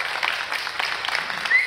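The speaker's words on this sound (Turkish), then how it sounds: "Bir alkışla onları alalım." Applause from a live audience at a plant-based children's nutrition cooking event, a steady patter of clapping hands at moderate distance that holds throughout.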